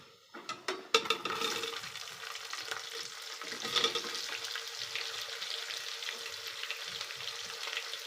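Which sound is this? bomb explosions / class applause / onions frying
onions frying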